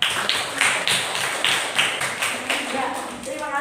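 Students in a classroom clap in a patterned rhythm, a rapid series of bright claps, some grouped in bursts, loud and close, with voices speaking over them.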